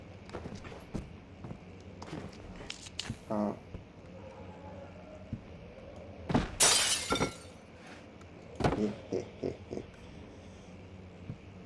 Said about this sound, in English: I smash your puny glass